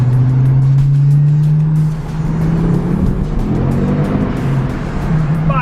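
A car engine with a newly fitted RS clutch roars loudly and climbs in pitch under hard acceleration in a tunnel, with a booming, enclosed echo.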